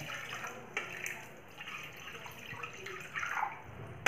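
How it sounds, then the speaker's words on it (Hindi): Cold tap water running over freshly made paneer in a home kitchen, a steady soft stream with occasional splashes and drips, fairly quiet and close. "अब इसे हम ठंडा पानी से अच्छे से धो लेंगे।"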